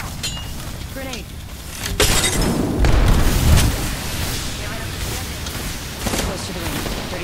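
A grenade goes off in a battle royale shooter, a loud deep boom rolling through amid scattered gunfire and clatter, with the blast rumble swelling then settling into continuing combat noise.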